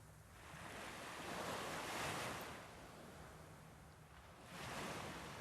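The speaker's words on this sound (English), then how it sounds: "As you hear the sound of waves gently crashing ashore" Ocean waves wash ashore in a steady, broad roar that swells and recedes, with some wind noise mixed in and no voices.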